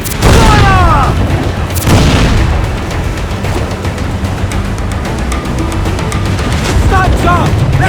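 Pirate ship cannons booming in the video game Assassin's Creed IV Black Flag, loud heavy blasts at the start and again a second later, followed by rumbling battle noise and crew voices shouting.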